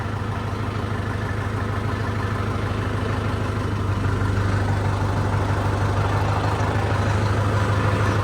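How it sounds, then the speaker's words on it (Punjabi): A straw cutter machine's engine runs outdoors in the rain, a steady, loud, continuous mechanical drone with a deep low hum that holds unbroken throughout, with no voices. "ਟਰਾਲੀ ਇੱਥੇ ਲਾਈ ਕਟਰ ਵਜਦਾ ਰਹਾ ਦਾ ਕਰਤਾਰ ਦਾ ਖੜਾ ਕਟਰ"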